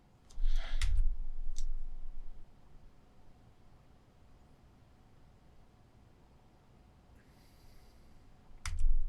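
A computer mouse clicks a few times, sharp and close: a pair of clicks at the start and another couple at the end, with faint hiss between.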